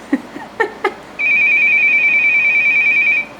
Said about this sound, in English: Almost sounds like a security alarm.